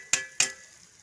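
Fried shallots drop into a hot pan and give two sharp, close sizzling bursts about a quarter second apart, each fading quickly into a low crackle.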